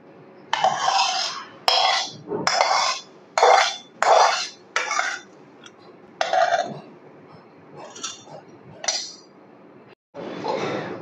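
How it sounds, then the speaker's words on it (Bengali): Cooled palm kheer is transferred from a pot into a bowl, giving a series of short, close scraping and clinking bursts of a spoon against metal, evenly spaced with brief pauses and no talking. "এখন আমি একটা পাত্রের মধ্যে ঢেলে নেব।"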